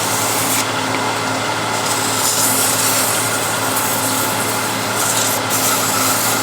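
A parting tool cuts into spinning wood on a lathe, giving a loud, continuous hissing scrape with a low motor hum underneath, steady throughout with slight shifts in pressure.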